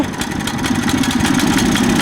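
A warm Ursus single-axle walking tractor runs loud and close as it is given some throttle, with a steady, throbbing engine drone held at an even level for about two seconds and no talk.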